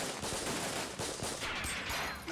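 Gunfire from the Yakuza 0 video game, rapid repeated shots and bursts that pile into a dense, loud fusillade over a noisy action backdrop, with no voices heard.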